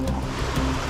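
Fast-running river water out in the desert, a steady rushing wash with no break, close and fairly loud throughout the short moment.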